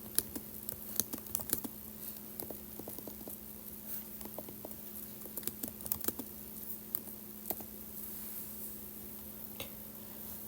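Light taps on an iPad's on-screen keyboard while typing a text string into Swift Playgrounds, soft scattered clicks in an uneven rhythm, close and quiet with no talking.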